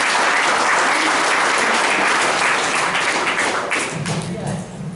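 Applause from an audience at a speech meeting, a loud, dense wash of clapping that fills the room continuously and slowly fades toward the end.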